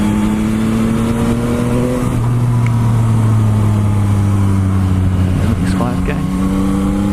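A 2021 Yamaha MT-09 SP motorcycle's engine idles and revs in loud, steady tones that shift pitch with the throttle, close to the listener, with faint talk alongside.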